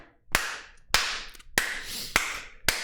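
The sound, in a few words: hand clapping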